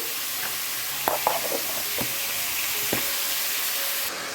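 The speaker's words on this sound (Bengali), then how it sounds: "মাংসটা তখন ভাজা ভাজা হোক" Meat fries in a pan with a steady, close sizzle, broken by a few short clinks and scrapes of stirring.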